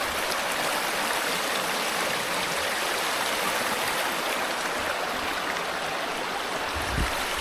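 A shallow, low-water stream flows and babbles continuously in hot, dry weather, a steady broadband rush of water close by with no voices.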